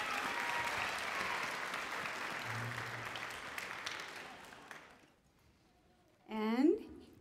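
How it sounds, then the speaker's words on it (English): An audience at a middle school winter holiday concert applauds steadily for several seconds, the clapping fading out, followed by a brief voice. "So we need to give a shout out and a clap to Mr. Hebert and the Chalmette High crew."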